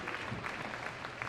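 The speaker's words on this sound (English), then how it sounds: "give him a big round of applause" Brief burst of audience clapping at Crufts dog agility, a short patter of hands from a crowd at moderate distance.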